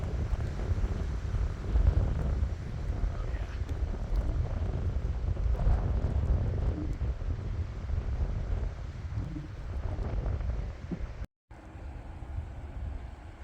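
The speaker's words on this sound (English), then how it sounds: "There's a good gust now." Strong wind gusts roar steadily through a lake effect snowstorm, buffeting the microphone with a loud, broadband rush that swells and eases for over ten seconds, briefly cutting out before resuming.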